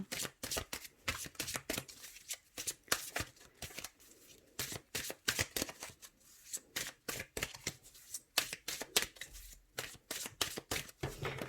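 Tarot cards are shuffled by hand in quick, crisp riffling bursts that repeat rhythmically for several seconds, close and clear with no talking.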